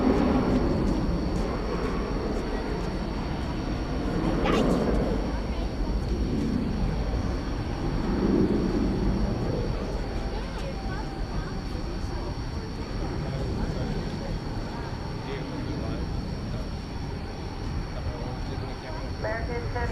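An American Airlines jet at DFW Airport at night rumbles with a low, steady roar, distant and continuous, while voices talk over it throughout.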